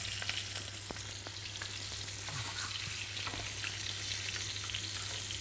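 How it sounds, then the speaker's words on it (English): Marinated lamb rumps searing with raw garlic in a hot pan, a steady close sizzle and crackle with occasional light clatters of the pan. "Nice hot pan, sealing all around."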